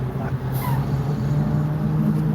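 Truck engine at a construction site, a steady low rumble close by with a brief hiss like an air brake release, continuous throughout with no talk.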